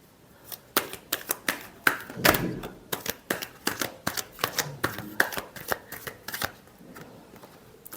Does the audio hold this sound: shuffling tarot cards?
yes